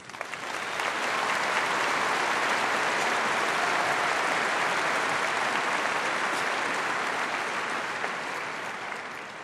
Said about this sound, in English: Please join me in applauding the efforts of all of these individuals.